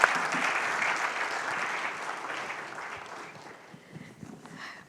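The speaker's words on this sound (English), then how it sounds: "Please give our panel and Pradeep a big round of applause" An audience at an economic conference gives a panel a sustained round of applause. The dense clapping stays even, then thins and tapers toward the end.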